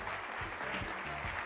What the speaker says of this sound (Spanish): Un muy fuerte aplauso a este capo realmente como Álvaro Moré